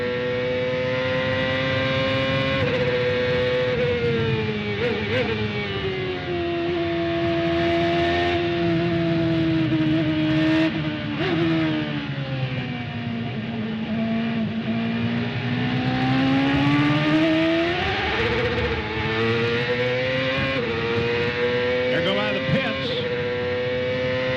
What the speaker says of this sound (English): Listen how gingerly he applies throttle now.